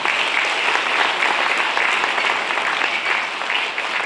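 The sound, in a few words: audience applause at a lecture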